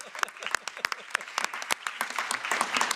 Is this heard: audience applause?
yes